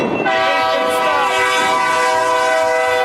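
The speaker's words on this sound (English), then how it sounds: "here comes the train" A train passing close by sounds its horn, a loud, sustained multi-tone blast held over the rumble of the rail cars.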